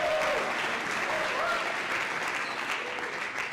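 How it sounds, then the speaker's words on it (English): An audience claps for Eric Barlow at a live event, a dense, steady wash of applause that holds throughout, with a faint voice briefly audible underneath near the start. "can we give Eric Barlow a big round of applause?"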